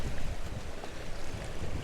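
Ocean waves washing onto a sunlit shore, a steady broad rushing surge with wind noise buffeting the microphone throughout and no voices.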